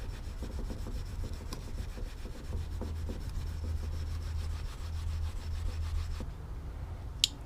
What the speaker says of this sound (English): we're going to get our steel wool pad and we're just going to start to clean them up like this.